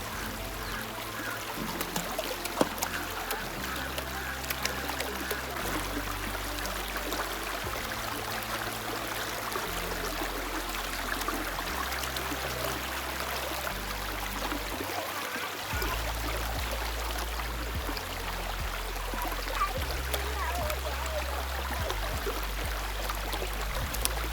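Water rushes and trickles steadily over the flowing waterfall stream at Sonmuda, Amarkantak, a continuous close wash of sound with a low rumble underneath and no voices.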